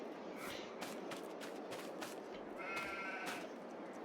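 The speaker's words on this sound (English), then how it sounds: "And our sheep." Sheep on a Farming Simulator 22 farm bleat several times in a game soundscape, with distinct nasal calls rising over a steady ambient hiss and faint shuffling.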